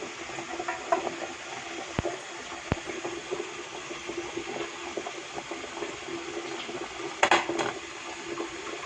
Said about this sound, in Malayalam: വെള്ളം നന്നായിട്ട് തിളച്ചിട്ടുണ്ട് ഈ അപ്പച്ചെമ്പിലേക്ക് വെച്ചാണ് ഇത് വേവിച്ചെടുക്കാൻ പോകുന്നത്